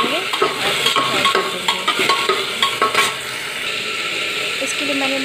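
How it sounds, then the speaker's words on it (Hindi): Taro (arbi) frying in oil in a pressure cooker, a steady loud sizzle with a quick run of stirring scrapes in the first few seconds, then continuous frying alone. "उसको मैं अरबी को थोड़ा सा फ्राई कर लूँगी"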